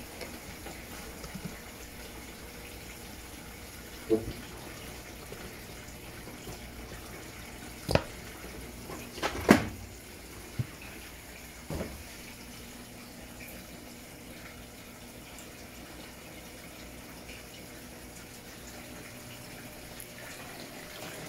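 An Electrolux LEC14 washing machine fills with water, giving a faint, steady hiss with a few soft clunks scattered through it and no voices.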